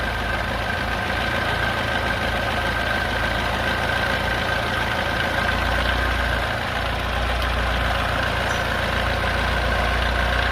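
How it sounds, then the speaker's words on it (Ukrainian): A carburetted engine idles alone in a low, continuous drone, running slightly unevenly and rough throughout, during a carburettor check. "Тут бачимо, робота двигуна змінюється."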